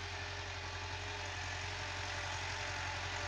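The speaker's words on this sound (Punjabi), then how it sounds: "ਬਹੁਤ ਹੀ ਅੱਛੀ ਪਰਫਾਰਮੈਂਸ ਦੇ ਰਿਹਾ 375 ਮੈਸੀ ਟਰੈਕਟਰ, ਅਤੇ ਜ਼ੋਰ ਵੀ ਲੈ ਰਿਹਾ।" A Massey Ferguson 375 tractor engine runs steadily while pulling a laser leveler in a field, a loud, continuous low diesel drone with a constant throb and no breaks.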